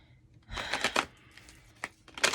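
A tarot deck is shuffled by hand nearby in a few quick papery riffles separated by short pauses, with soft card snaps toward the end.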